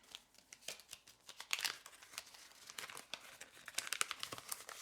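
Paper being cut out for a Christmas card makes faint, close crinkling and snipping with soft rustles in a quick irregular run, no voice present.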